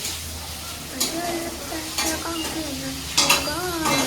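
Chicken is stirred into softened frying tomato and onion, a steady sizzle broken by a few spoon scrapes and knocks against the pan, while a voice murmurs faintly in the background.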